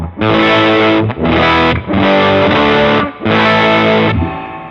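Loud electric guitar with volume and tone fully up, slightly distorted, full tone, four sustained chords separated by brief dips, the last one fading out.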